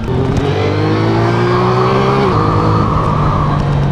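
A 2025 Triumph Trident 660 motorcycle with an aftermarket exhaust revs loud and close, its rising engine tone holding high and then dropping back, with no talk over it.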